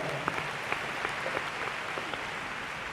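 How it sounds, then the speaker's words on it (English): Audience applause at a comedy talk on differences between men and women, a steady wash of clapping with a few sharper claps standing out, fairly quiet and distant throughout. "give them a big clap"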